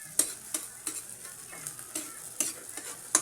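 A utensil stirs buttered garlic crabs in a frying pan, making quiet, regular scraping strokes about twice a second over a faint sizzle, with no voices.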